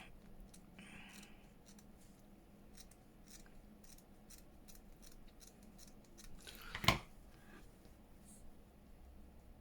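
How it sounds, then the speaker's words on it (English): Hand scissors snip through fabric snippets during junk journal sewing work, a single sharp cut standing out near the end over a quiet, faintly noisy room. "Let's just cut that off."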